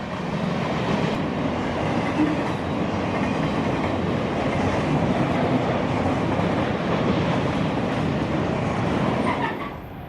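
A CSX freight train rolls past on double track, a steady, loud broadband roar with rail clatter running for the full length, close by, tapering slightly at the end.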